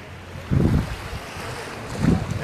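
Ocean waves on a beach in Miami, with two low rolling surges a couple of seconds apart breaking over steady wind noise at the microphone, no voices present.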